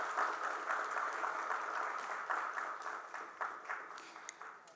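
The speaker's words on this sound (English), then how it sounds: "Can we support with a round of applause," Applause from an audience at a formal government event in Shillong, a steady patter of many hands clapping, moderately distant and fairly soft, with a few sharper individual claps toward the end.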